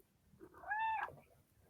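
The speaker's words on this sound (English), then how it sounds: "it's a cat meow." A single clear cat meow, a rising-then-falling call just under a second long, fairly close and alone with no talking.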